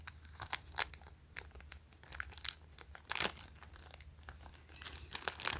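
Clear plastic tape being peeled and crinkled off a shipping package, giving a run of close, dry crackles and tearing rustles in irregular bursts with no voices.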